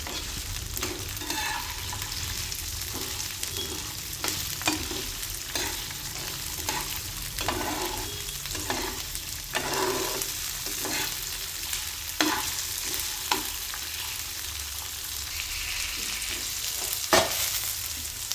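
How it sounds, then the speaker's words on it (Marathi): Close, steady sizzling of green chillies roasting in oil on a tawa for Vidarbha-style fresh pigeon pea kharda, with frequent rhythmic scrapes and clinks of a spatula stirring them throughout. "हे तव्यावरती चांगला आधी भाजून घ्यायचं आहे"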